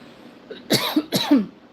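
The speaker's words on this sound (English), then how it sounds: "Excuse me for coughing in your ear." Two close, hoarse coughs in quick succession from one person, loud against a quiet background, with no speech.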